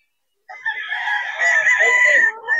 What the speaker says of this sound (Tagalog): Ayan, manok.